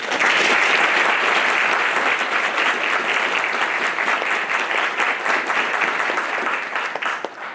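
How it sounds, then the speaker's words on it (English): A loud, dense round of audience applause at a Navy graduation ceremony, many hands clapping steadily for several seconds before thinning slightly toward the end, with no one speaking over it. "So please join me in a warm round of applause for Electronic Technician First Class Surface Warfare, Stephen Rickard."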